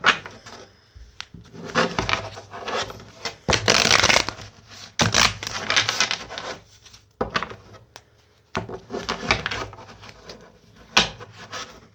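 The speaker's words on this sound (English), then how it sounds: "I don't even know if I did shuffle these or not, but I'm going to again." Tarot cards are shuffled by hand in repeated bursts of papery riffling and sliding, close up, with brief pauses between rounds and no talking.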